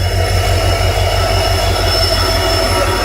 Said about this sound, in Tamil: 16511 கண்ணனூர் எக்ஸ்பிரஸ் கிளம்பிடுச்சுங்க யஷ்வந்த்பூர் ரயில்வே ஸ்டேஷன்ல இருந்து